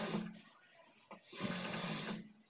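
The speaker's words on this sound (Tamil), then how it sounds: "அதிலிருந்து வந்து நேராக தையல் போட்டுக்கலாம்." A sewing machine stitching a nighty in a home sewing setup, running in two short bursts of rapid, close mechanical whirring with a pause between them.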